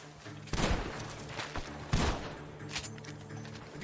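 Gunfire from a barn during a shootout in the video game Red Dead Redemption 2, two sharp loud reports about a second and a half apart followed by fainter thuds and shots over a steady low game ambience.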